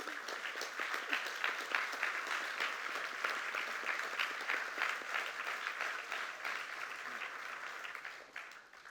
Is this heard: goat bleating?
no